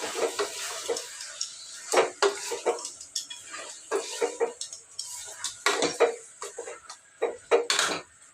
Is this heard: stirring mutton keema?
yes